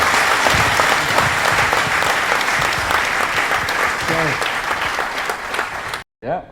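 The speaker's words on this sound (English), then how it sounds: "Can we have a really, really loud round of applause for Jan?" A conference audience at a community tech event in Kochi gives a loud, sustained round of applause with some cheering, then it cuts off abruptly near the end.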